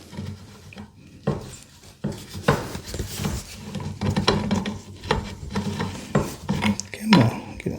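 A threaded water line fitting being screwed on and tightened in a horse barn, with close, irregular scraping and clicking turns and handling knocks.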